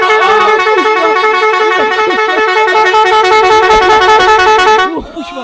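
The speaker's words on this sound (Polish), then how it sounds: "po pierwszym teście wiemy, że nasza trąbka ma jakieś te 165-170 decybeli" Extremely loud horn rated around 165–170 dB, blaring as a steady, harmonically rich tone for about five seconds before cutting off abruptly, after which a person exclaims.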